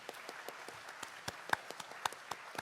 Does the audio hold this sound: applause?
yes